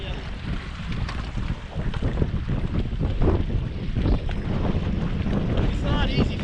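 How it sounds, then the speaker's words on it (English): Strong wind gusting across a lake during winter bass fishing, a loud, continuous buffeting roar on the microphone with water slapping and a boat rocking beneath it. "It's not easy fishing this wind."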